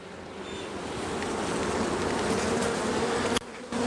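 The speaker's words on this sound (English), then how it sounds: "So lots of bees up in this top box" Honey bees swarm inside the top box of a hive being opened for queen rearing. A dense, continuous buzzing hum sounds up close and swells slightly, then briefly dips near the end.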